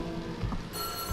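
A telephone rings in the PS4 horror game White Day, a sustained bright ringing tone that enters midway over a low rumbling ambience, short and clear, with no talk.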